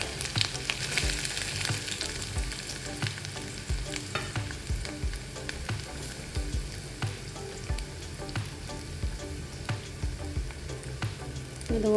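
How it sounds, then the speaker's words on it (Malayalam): Ginger and garlic sizzle steadily in sesame oil with popped mustard seeds, the first step of a jackfruit pickle, with a dense close frying crackle, repeated stirring scrapes and spoon taps throughout, no voices. "കടുക് പൊട്ടി ഇനി നമുക്ക് അതിലോട്ട് എടുത്ത് വെച്ച ഇഞ്ചിയും വെളുത്തുള്ളി എല്ലാം ചേർത്ത് കൊടുക്കാം"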